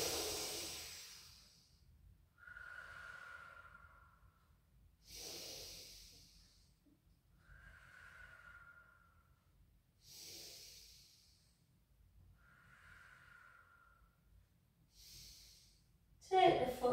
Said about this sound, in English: Take some deep in-out breaths.